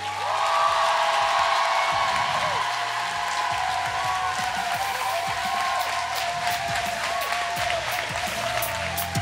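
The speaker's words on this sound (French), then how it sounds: "vous allez applaudir très très fort pour elle" An audience at a student show in France applauds loudly and steadily, a dense wash of clapping with a few cheers that fills the hall without pause.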